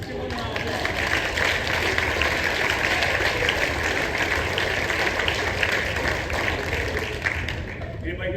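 An audience claps for a group of bus drivers, steady and loud applause that fills the room at an even level for several seconds and then eases slightly at the end.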